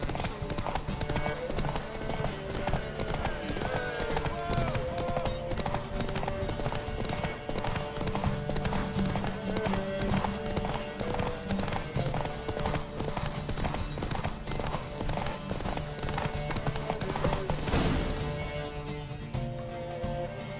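Roach, a horse in The Witcher 3, gallops in a race, rapid rhythmic hoofbeats drumming continuously and loudly with game music layered underneath, swelling near the end.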